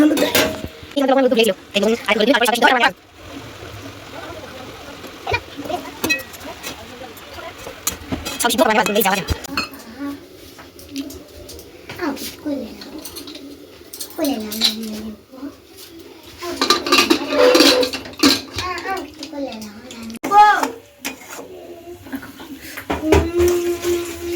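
Pots and utensils clank and scrape while leafy greens (saag) cook, scattered metallic knocks and stirring noises in bursts across the stretch, with a person talking over them at times.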